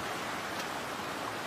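Small river at Low Force waterfall in the North Pennines, County Durham, flowing steadily close by as a broad, even wash of water noise with no breaks.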